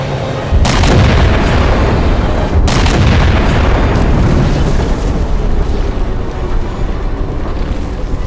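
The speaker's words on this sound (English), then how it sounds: "Target locked! Firing!" Heavy weapon fire aimed at a target in the Halo 4 video game, a loud sustained booming roar with two sharp blasts standing out early on, continuing densely throughout with no voices.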